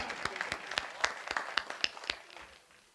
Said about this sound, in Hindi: मुझे तालियों से बताएं आप